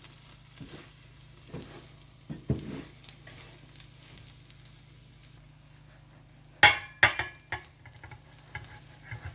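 Cheese omelette sizzling in a frying pan as it is stirred and flipped, a soft steady crackle with a few sharp scraping clatters from the utensil against the pan.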